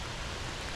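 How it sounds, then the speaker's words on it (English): Rain falls steadily at a lake, a dense even hiss of drops spread across the whole soundscape, with no voices. "We're out at the lake, and it is raining."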